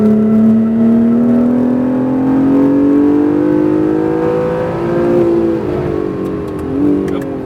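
Honda NSX sports car on a race track, its engine droning loud and close with a steady rising pitch, then easing through two downshifts near the end, under faint intermittent talk.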